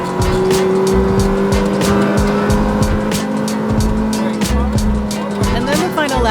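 A supercar driven flat out on a Las Vegas race track, its engine howling loud and close with a steady sustained pitch, tyre squeal mixed in.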